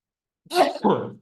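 A single sharp sneeze bursts out, close and loud, with a quick intake and a noisy, spluttering release lasting under a second.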